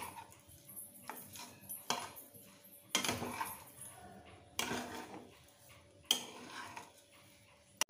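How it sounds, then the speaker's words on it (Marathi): Spoon stirring sugar into sheera in a pan, giving repeated scraping clinks and clatters of metal against the pan in uneven bursts, close and fairly quiet with no talking. "साखर मस्त एकजीव करून घेऊया।"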